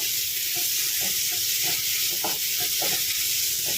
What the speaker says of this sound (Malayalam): നന്നായിട്ട് ഫ്രൈ ആയിട്ടുണ്ട് ഉള്ളിയിലേക്ക് ഇടയ്ക്കിടയ്ക്ക് ഇളക്കി കൊടുക്കണം